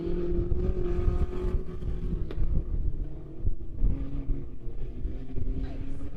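Tuner class race cars roar around a dirt track at Bolivar Speedway, a dense, continuous engine drone with shifting pitch and wind buffeting, loud and steady throughout.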